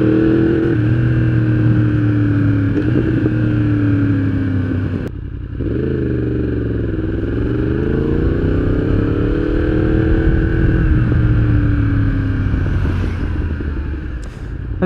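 A Yamaha R1 sport motorcycle rolls through a downtown street, its engine and exhaust a loud, steady near drone that eases briefly then swells again with throttle changes, running continuously with no talking.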